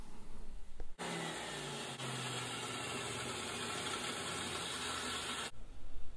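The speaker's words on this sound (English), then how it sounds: "that grinder is a Makita 5-inch" A Makita 5-inch angle grinder from the 1980s polishing and sanding a small Record No. 0 vise, a steady loud whine that starts abruptly, holds evenly for several seconds, then cuts off.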